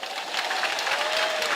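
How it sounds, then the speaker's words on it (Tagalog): A church congregation at a healing service clapping loudly together, a brief dense burst of many hands applauding, steady and fairly close with no talk over it. "Papalakpakin mo lang malakas yan."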